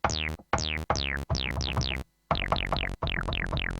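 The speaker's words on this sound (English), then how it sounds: "there's PCM waveforms that I think are drum waveforms." Synthesized PCM drum waveform hits from an AMYboard synth in quick bursts, each with a bright falling sweep, repeating in an uneven rhythm with a brief pause midway.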